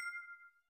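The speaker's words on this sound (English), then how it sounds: "finally, a notification bell for more videos coming up" A notification bell sound effect: one short, clean, high ding that rings briefly and then fades out, very quiet and heard alone.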